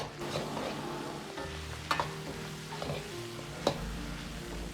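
Pixian doubanjiang bean paste stir-fries in a wok with a soft, steady sizzle, punctuated by a couple of sharp spatula clinks against the metal, fairly quiet and free of speech.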